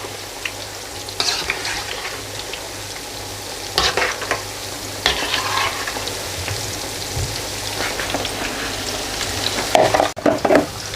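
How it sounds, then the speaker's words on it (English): Chicken kofte kebabs sizzling steadily in a pan, a constant close crackle with occasional louder bursts as they are moved around, no one talking. "it's been about a minute that they're frying away."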